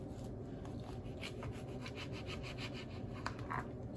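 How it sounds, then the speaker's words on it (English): A knife slices through a juicy orange in quiet, repeated sawing strokes, faint and close, with no talking. "start slicing up this orange"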